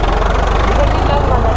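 A motorcycle engine runs with a steady, loud, close drone and rumble, without a pause. The bike is either a Yamaha MT-15 v2 BS6 or a Bajaj Pulsar NS200 BS6 at a drag race.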